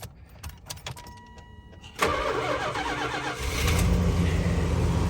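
A 1982 Chrysler Imperial with electronic fuel injection, parked since 1992, cranks briefly with faint clicks and then catches at about two seconds. It settles into a loud, close, steady running note that swells as the engine picks up.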